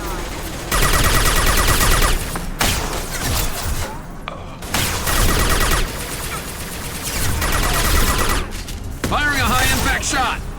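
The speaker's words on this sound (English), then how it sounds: "Taking heavy fire." Combat in the video game Mass Effect 2 brings loud, close bursts of rapid gunfire and heavy shots, repeating in waves with brief gaps between salvos.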